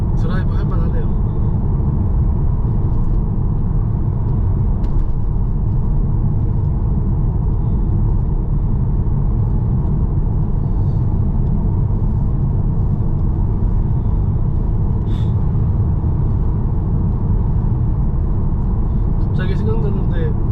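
A car on a New Zealand road trip toward Wellington gives a steady, low engine and road rumble from inside the cabin throughout, with voices talking over it.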